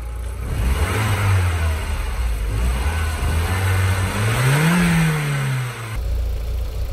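Engine of an Audi TT MK1 under fault diagnosis revving steadily, then rising sharply in pitch as it accelerates before settling back, loud and close with no voices.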